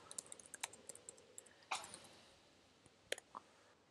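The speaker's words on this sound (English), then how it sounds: "So I'm going to type in leather handbags as an example." Typing on a computer keyboard: quick, light key clicks tapped in short uneven runs, with a couple of heavier keystrokes, close and quiet, no voices.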